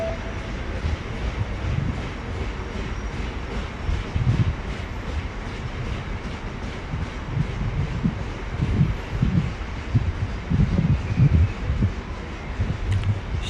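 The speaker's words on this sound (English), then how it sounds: "The next train to arrive at platform 4 will be the 1440 London Northwestern Railway service." A London Northwestern Railway train pulls into a platform at Stafford station on the West Coast Main Line, a steady low rumble and rolling wheel noise that swells in pulses as the carriages pass close by, with no talk.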